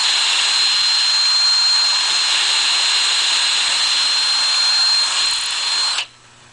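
A drill press drilling wood runs in one continuous high whine for about six seconds, loud and steady, then cuts off abruptly, leaving quiet.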